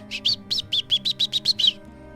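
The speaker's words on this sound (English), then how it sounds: "sounds like a blackbird." A blackbird sings a bright, rhythmic run of about ten quick whistled chirps, close and clear over a low background hum, then stops.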